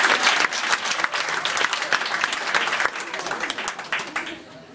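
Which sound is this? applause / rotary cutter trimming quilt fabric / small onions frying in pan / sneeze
applause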